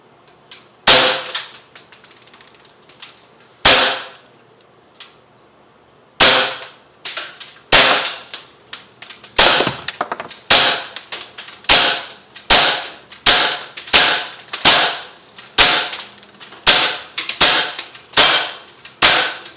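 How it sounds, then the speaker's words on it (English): Shots from an Umarex Beretta APX .177 air pistol striking a laptop from about eight feet, sharp snapping cracks, widely spaced at first and then fired in a quick, steady string of about twenty close, loud reports. "get a couple shots into the laptop too to see if they wedge in or not"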